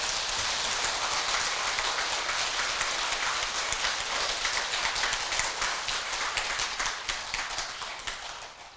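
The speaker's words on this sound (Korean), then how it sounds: "먼저 감사합니다 하는 박수 한번 보내주세요." Steady, dense clapping from a temple audience welcoming a visiting Buddhist monk at a dharma talk, continuing evenly for several seconds and tapering slightly near the end.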